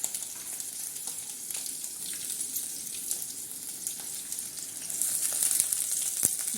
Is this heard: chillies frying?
yes